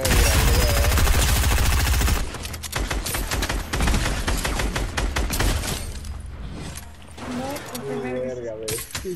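New charge shotgun fired in Fortnite: repeated loud, sharp blasts in quick bursts over dense game noise, followed by more scattered shots with a voice talking over them.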